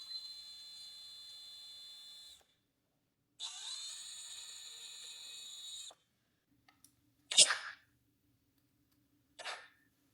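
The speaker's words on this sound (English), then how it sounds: "And I am pre-drilling all of these holes." A power drill pre-drills holes through a metal bracket into an old wooden dining table, whining in two steady runs of a few seconds each, followed by short scraping handling sounds, close and alone without talk.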